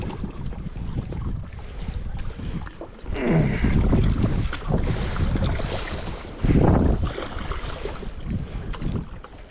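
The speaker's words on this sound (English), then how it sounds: "the wind's kicking us around" Gusty wind buffets the microphone on a boat drifting along the Green River, roaring in loud surges that swell and fade, with low rumbling and splashing underneath.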